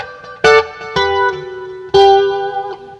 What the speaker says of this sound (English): you hear how that delay hits the echoes at the right time?